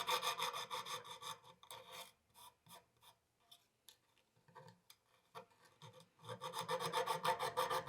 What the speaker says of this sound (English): To soften the sharp edges, I'm using thin strips of sandpaper with duct tape on the back.